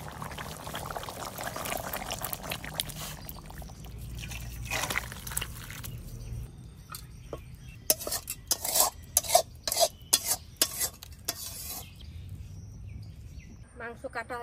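Green chillies dropped into a simmering curry and stirred, with liquid pouring and splashing sounds and clatter of a utensil against the pot, brief clinks and scrapes clustering in the second half, a voice talking early on.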